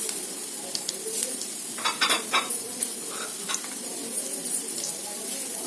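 Spiced basmati rice fries with a soft, steady sizzle in a pan while a spoon scrapes and stirs in brief clusters of clinks, close up with no talking.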